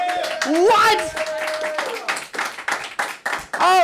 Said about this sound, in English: Your friends applauded.